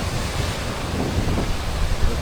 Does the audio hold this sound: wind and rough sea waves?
yes